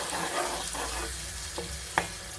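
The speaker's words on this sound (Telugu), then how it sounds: "ఇది పచ్చి స్మెల్ పోయేంత వరకు ఫ్రై కావాలి." Onion paste with tempering spices fries in a pan for curry, giving a steady close sizzle broken by a few sharp clicks and scrapes from stirring.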